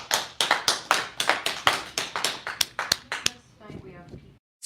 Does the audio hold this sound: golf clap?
yes